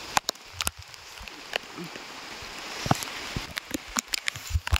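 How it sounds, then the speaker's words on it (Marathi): Steady patter of heavy rain on leaves in a forest, with scattered louder drops and clicks, fairly close, no voices. "पाऊस जोरात आला तर आपण भिजतोय, तुम्ही बघू शकता."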